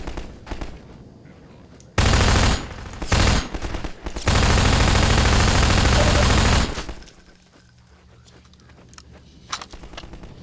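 Loud bursts of rapid gunfire from a first-person shooter video game, one short volley followed by a long sustained stretch of automatic fire, then quieter game ambience.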